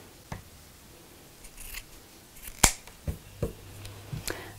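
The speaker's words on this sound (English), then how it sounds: "And trim off this bit of the zip." Scissors trimming the end of a zip during sewing: a few sharp, close snips, one crisp and loud, scattered over a few seconds in a quiet room.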